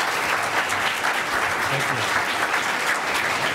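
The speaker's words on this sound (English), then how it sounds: "Can we get a round of applause?" Audience applause at a live event with guest speakers, a dense steady wash of many hands clapping throughout, with a brief spoken voice over it.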